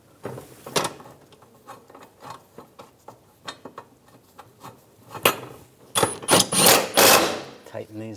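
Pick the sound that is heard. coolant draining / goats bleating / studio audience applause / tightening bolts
tightening bolts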